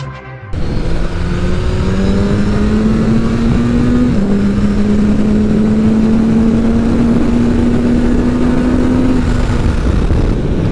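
A 2022 Suzuki Hayabusa motorcycle pulls away and accelerates smoothly under light throttle, its loud, steady engine drone rising in pitch with a brief dip at a gear change, close and continuous.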